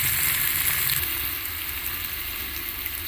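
Ginger garlic paste sizzles and fries in hot oil with browned onions, a steady close crackle that eases slightly after the first second.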